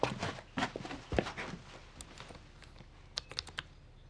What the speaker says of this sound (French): Approche, Sarah, et tape quelque chose.